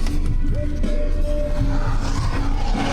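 A car's front tires scrub and squeal as it tries to spin a full 360, a wavering tire screech over a loud, constant engine roar, close by.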